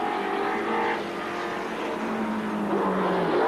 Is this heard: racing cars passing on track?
yes